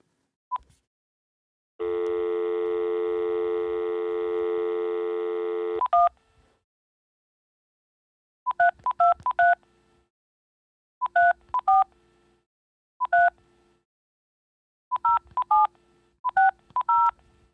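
Touch-tone telephone dialing while placing a call: a long steady dial tone for about four seconds, then several bursts of quick dual-tone key beeps spaced across the rest of the clip, clear and alone with no talk.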